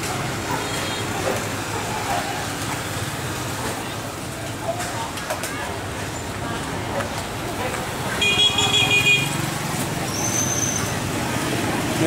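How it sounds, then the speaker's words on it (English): Street traffic at a market intersection along the Mekong River in Kampong Thom, Cambodia: a steady wash of passing vehicles with engine hum, a horn-like tone near the end, and faint distant voices. "I'm standing at an intersection of a market street along the Mekong River, and I'm just watching the traffic."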